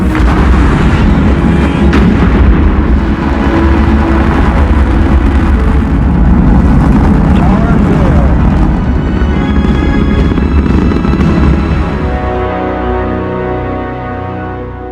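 Apollo rocket engines ignite and launch in a massive, continuous roaring rumble that dominates for most of the stretch, then eases off near the end as a soft tonal music bed emerges.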